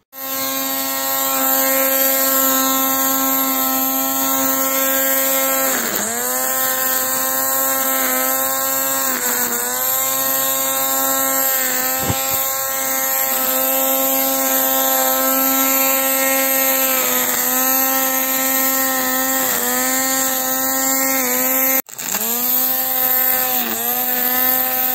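A Parkside PRTA 20-Li C3 20V cordless battery string trimmer runs steadily with a sustained motor whine that dips briefly in pitch several times as the line meets grass, loud and close throughout with no talking.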